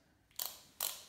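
Two sharp ratcheting clicks from a torque wrench tightening main bearing cap bolts on an Oldsmobile 350 Rocket V8 engine block during a rebuild, close and fairly faint, with a quiet pause between them.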